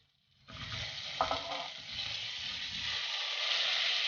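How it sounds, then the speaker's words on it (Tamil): Cauliflower dropped into melted butter in a cooker sizzles steadily, a bright continuous frying hiss that starts abruptly and holds near and even, with a brief stir clink early on. "அதுக்கு பட்டர் போடலாம். இதில் காலிஃப்ளவர் போட்டுக்கலாம்."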